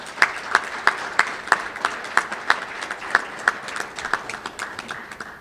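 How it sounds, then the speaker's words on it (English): Audience applause at a national youth consultation event, a fairly close round of clapping with distinct individual claps in a quick steady rhythm, holding strong before slightly thinning toward the end. "Give them all a round of applause,"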